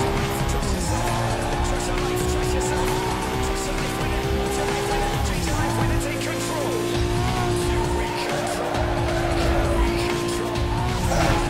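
Nissan cars race in the Need for Speed Most Wanted video game, engines whining at high pitch with shifting gear tones, tire squeals and skids over a constant roar.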